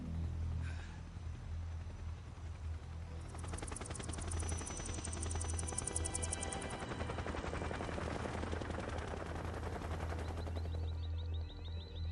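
Steady rotor thrum of helicopters in the video game Metal Gear Solid 3 fills the scene, with rapid bursts of gunfire crackling over it, sustained and fairly distant throughout.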